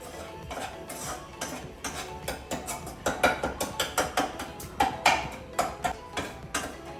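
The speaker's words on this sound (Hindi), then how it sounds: "3 tablespoon sugar I am adding in 1 bowl of आटा" Spoonfuls of sugar tipped into a bowl of atta flour, a series of close clinking scrapes and taps of a metal spoon against the bowl in an irregular rhythm, with no talking.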